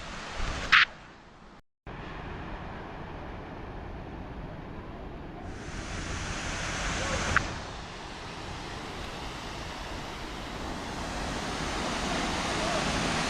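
Water spilling over the edge of a small bathing pool at a resort, a steady broadband rush like surf that continues throughout, moderately near, with no voices and only a brief dropout near the start.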